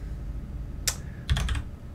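A few quiet, crisp computer keyboard keystrokes while using Emacs: a single tap followed by a quick cluster of clicks, close and isolated.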